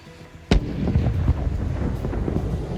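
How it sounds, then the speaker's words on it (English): A single sharp firework burst goes off in the Hitman video game, followed by a loud, sustained crackling rumble that continues steadily to the end. "So for one last time, set off the fireworks."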